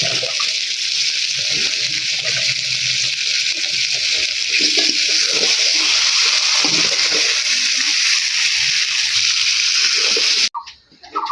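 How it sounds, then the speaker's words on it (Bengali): Country chicken curry sizzles steadily in a pan while it is braised and potatoes are added, a loud continuous frying hiss close by that cuts off abruptly near the end. "এই তো মাংসটা এখন কষাচ্ছি, অনেকক্ষণ ধরেই কষালাম, এখন আলুগুলো দেবো।"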